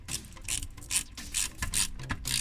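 A screwdriver driving screws into the plastic underside of an Altaya KITT (K2000) model car kit, heard as a run of close, repeated ratcheting clicks and scraping turns, with no talk.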